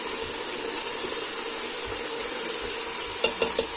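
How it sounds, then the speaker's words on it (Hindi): A spoon stirring beef kofta curry in a pot, over a steady close sizzle with a few sharp scraping knocks against the pot near the end. "अब हम इसमें आराम से चमचा चला सकते हैं"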